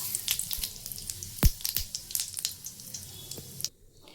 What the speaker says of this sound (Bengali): এবার তার মধ্যে ফোড়নের জন্য দিয়ে দিচ্ছি তেজপাতা